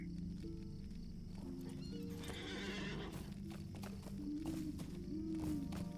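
A horse in a video game clip-clops along and whinnies, with hoofbeats running steadily throughout and a couple of drawn-out neighs rising above them, fairly quiet overall.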